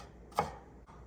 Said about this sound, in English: Dice up my jalapeno.